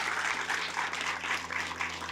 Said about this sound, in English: could you all please give our volunteers a round of applause?